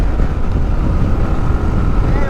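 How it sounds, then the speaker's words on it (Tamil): Strong headwind buffets the microphone on a motorcycle ride toward Coimbatore, a steady loud roaring rush of wind noise that covers the whole stretch with no break. "ஆப்போசிட்டில் நல்லாவே காற்றடிக்க ஆரம்பிச்சிருச்சுங்க."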